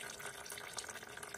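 Fluid drains from a Chinese pit bike engine with a continuous trickling, splashing stream that sounds like running water, steady and close for a brief moment, with no talking.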